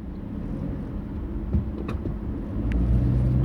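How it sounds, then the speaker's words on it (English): A Mercedes-Benz car is moved outdoors, its low engine rumble running steadily and swelling near the end, with a couple of faint clicks over it. "Let me move this car before it rains also."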